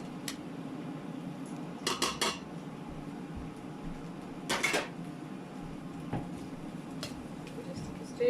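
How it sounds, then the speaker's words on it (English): A spoon stirs vegetable curry in a pot, with a few scattered metallic scrapes and clinks against the pan over a low background hum. "Just stir that through."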